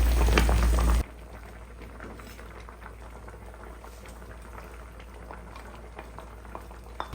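Catfish simmering in instant coconut milk with chilies in a pot, a steady close bubbling boil that runs on evenly after a louder burst at the very start, with no voices.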